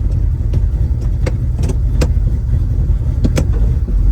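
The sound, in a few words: 1970 Chevrolet Nova car driving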